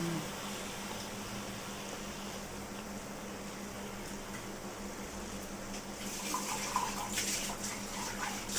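A little water goes into a pan of sweet, sour and spicy mango pickle with jaggery, a soft steady pour and trickle that grows a bit louder and splashier toward the end, with no talking over it.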